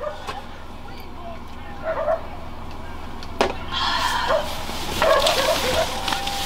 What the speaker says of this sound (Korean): 강아지도 막 짖고